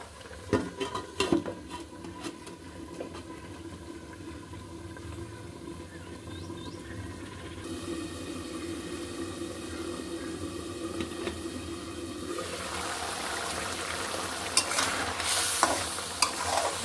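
Spicy, heavily spiced food frying in a covered pan, a continuous close sizzle with scattered stirring clatter early on, the frying growing louder and brighter toward the end, with no talking.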